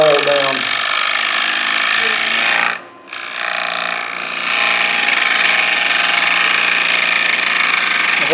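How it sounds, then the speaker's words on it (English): Standard bowl gouge thinning the wall of a fresh-cut wooden bowl spinning on a lathe, a loud continuous scraping, hissing cut with a brief drop near the middle before cutting resumes, motor hum underneath. "Standard bowl gouge, not the old big one. I'm going to go ahead and thin this wall down."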